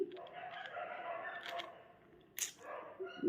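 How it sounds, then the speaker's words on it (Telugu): Dogs bark and wail faintly in the distance, their drawn-out cries overlapping in the quiet night. "నైట్ అయితే ఈ కుక్కల గోల భరించలేమండి"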